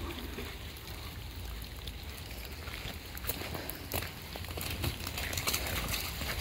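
Gentle trickle of a forest stream running steadily beneath crunching footsteps and rustling, with brief louder scuffs toward the end, no talking.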